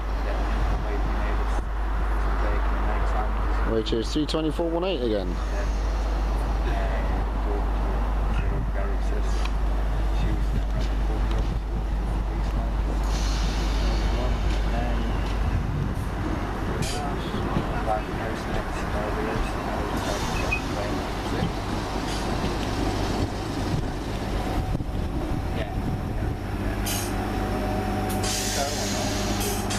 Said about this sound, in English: this is our train coming in now